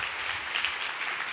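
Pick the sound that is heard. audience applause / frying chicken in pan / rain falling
audience applause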